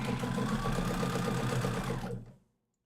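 A sewing machine running at speed while stitching quilt blocks, a steady close mechanical whirring hum with rapid needle clatter that runs for about two seconds and then stops abruptly.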